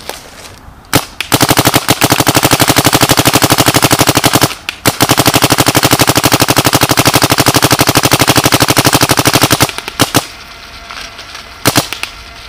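A DYE DM15 paintball marker fires in long rapid-fire strings, a steady machine-like rattle of close, loud pops that breaks off briefly and then resumes, with a few single shots at the end.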